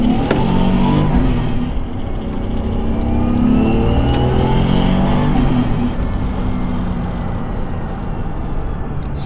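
A stock-turbo Toyota JZX100 revs hard and loud up close, its engine note rising and falling through repeated throttle blips, with fluttering turbo chatter as the revs drop.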